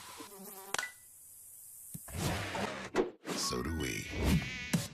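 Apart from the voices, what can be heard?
mosquito buzzing in a Terminix ad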